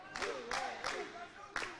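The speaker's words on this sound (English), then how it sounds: "And the crowd is cheering on the UAE side." An indoor cricket crowd in Dubai claps and cheers for the UAE side, with rhythmic rapid claps and excited voices forming a lively, moderately distant din.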